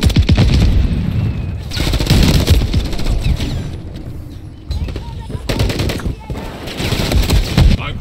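Heavy video game gunfire rattles in loud, dense bursts with brief lulls between volleys, close and overwhelming throughout.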